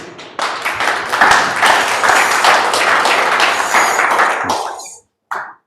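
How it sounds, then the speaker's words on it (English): Audience applause at a MadMapper masterclass during Mapping Festival 2021, a dense burst of many hands clapping that swells, holds steady for several seconds, then cuts off abruptly before a brief final flurry. "Let's applause."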